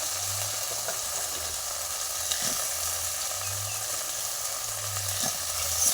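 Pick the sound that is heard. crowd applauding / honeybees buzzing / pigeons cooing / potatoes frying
potatoes frying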